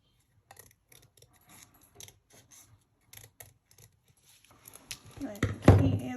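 Scissors fussy cutting a paper collage sheet: soft, close snips and rustles in an uneven rhythm, rising into louder paper handling at the end.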